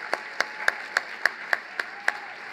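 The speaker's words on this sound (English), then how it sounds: "one more big round of applause for all of our National Merit Scholars" At a high school department awards ceremony, clapping for the National Merit Scholars comes as about eight distinct, evenly spaced claps in a slow, steady rhythm, crisp and fairly close against a quiet room.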